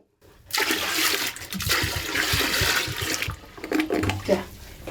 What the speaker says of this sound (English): We can also flush the toilet with the water from laundry.